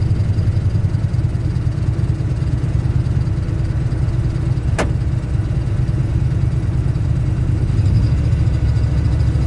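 A rebuilt Ford big block V8, running rich with the MAP sensor disconnected, rumbles steadily at close range with a deep low drone and one brief sharp click midway.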